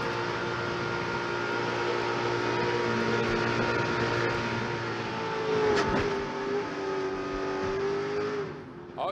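NASCAR race cars at the 2007 Daytona 500, a loud steady roar of many engines at speed with a rising whine as the pack approaches, continuous throughout, no talk over it.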